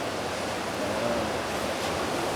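A water tank is filling back up, a steady, even rush of flowing water that holds constant throughout, with no voices over it.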